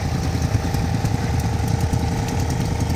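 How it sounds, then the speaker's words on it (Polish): A petrol-engined Ferguson tractor runs steadily close by, its small engine giving a continuous, fairly quiet mechanical drone with a light, even throb throughout and no voices. "A tu mamy Fergusona. Ferguson w wersji benzynowej."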